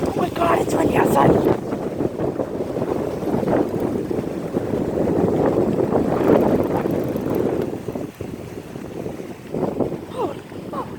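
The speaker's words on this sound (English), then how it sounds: "it's windy outside" Strong wind gusts outdoors, buffeting the microphone in rumbling roars that swell and ease, with voices intermittently heard beneath it.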